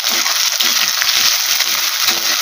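Onions frying in a pan for a fish curry, giving a steady, dense sizzle that carries on unbroken throughout, close and fairly loud, with no voices.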